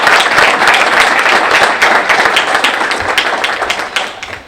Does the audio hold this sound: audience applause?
yes